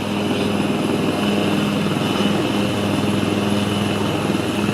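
An army helicopter flying on a search mission over a forested disaster area gives a steady, loud droning engine and rotor roar that holds constant throughout.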